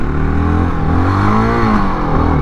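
A 2025 Honda XR650L dual-sport motorcycle's single-cylinder engine revs up and falls back close to the listener, loud and throaty with a rising and dipping pitch, no talk.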